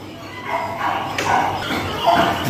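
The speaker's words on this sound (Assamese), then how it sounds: "এইবিলাক কুকুৰৰ পোৱালি" Several puppies give short, high yips and barks close by, in quick uneven bursts, at a small zoo.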